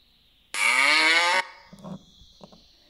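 A single loud, drawn-out cow moo lasting about a second, followed by a few faint soft knocks against a quiet background.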